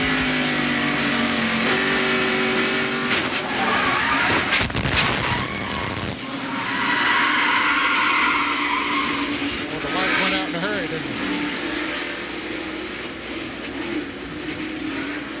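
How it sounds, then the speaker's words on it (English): In-car audio from Dale Jarrett's NASCAR stock car during the 1991 TranSouth 500 at Darlington Raceway: a loud, steady engine drone rises as he gets on the accelerator, with tire skidding and a burst of harsh noise midway. "You could hear Dale get on the accelerator when he saw that Meacham and Gant had touched"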